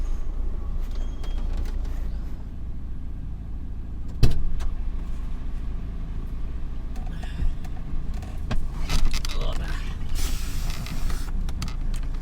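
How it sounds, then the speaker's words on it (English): Vehicle doors opening at a bay in 2024 with a sharp mechanical clunk followed by creaks and a sliding, whirring mechanism over a steady engine rumble, fairly close and loud. "I get the doors open."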